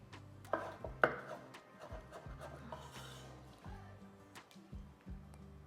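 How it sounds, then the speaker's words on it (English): A knife dicing cornichon pickles into tiny brunoise cubes on a board, with quiet, close, evenly spaced taps in a steady chopping rhythm and a few sharper knocks. "So the idea is to cut the pickles in a little cubes."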